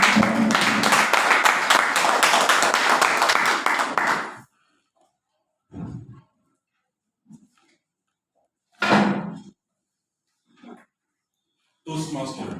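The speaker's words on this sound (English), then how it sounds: "Ladies and gentlemen, with a warm applause, let's come and welcome Abdulaziz" Applause from a Toastmasters audience welcoming a speaker, a dense, loud burst of clapping for about four seconds that stops abruptly, followed by scattered brief sounds and short spoken phrases.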